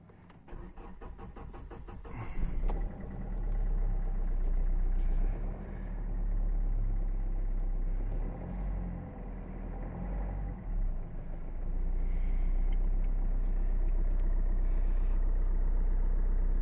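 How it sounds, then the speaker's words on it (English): A high-mileage Hyundai i30 diesel car cranks and starts after a brief whir, then settles into a loud, steady low diesel idle in neutral, close up, with no talking. "If I just start the car up, put it in neutral,"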